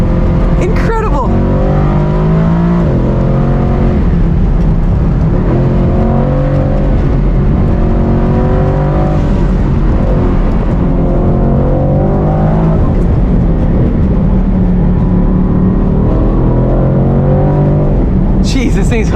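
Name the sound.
Mercedes-AMG GT C Roadster engine and exhaust pops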